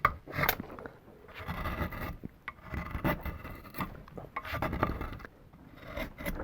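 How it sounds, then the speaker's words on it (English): Skew chisel carving the edges off a wooden guitar neck by hand, a series of close dry scraping and rasping strokes in uneven bursts with short pauses between cuts. "I'll just take the skew and start working off some of these very obvious"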